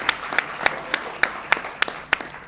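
Sparse, distinct claps from a studio audience during a televised interview show, a handful of separate sharp hand claps spaced fairly evenly rather than a full roar, heard at moderate volume.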